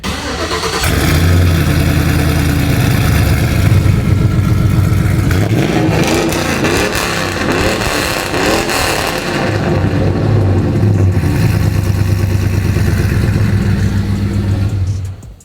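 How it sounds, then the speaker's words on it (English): A pickup truck's stock engine cranks and catches, then idles loudly and revs up and down in a steady rumble close by before cutting off abruptly. "It's still stock motor. We're going to turn it on for you guys so you can hear it."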